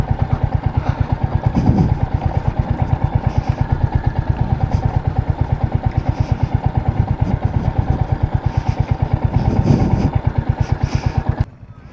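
A Royal Enfield Hunter 350 motorcycle engine thumps in a steady, rapid single-cylinder beat, loud and close, with a couple of brief revs before it cuts off near the end.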